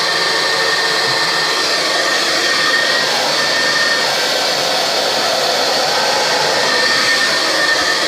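A hair dryer blows steadily and loudly at close range for the whole stretch, drying hair for a volume brushing, with an even broadband whoosh and no talking.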